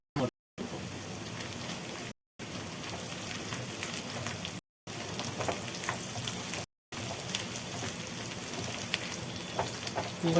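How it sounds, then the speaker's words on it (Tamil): Tamarind and dried chillies sauté in a pan for chutney, giving a soft, steady sizzle with faint stirring scrapes, broken by a few brief silent gaps. "இப்போ புளி போட்டுக்கிறேன். நல்லா வதக்கிட்டு"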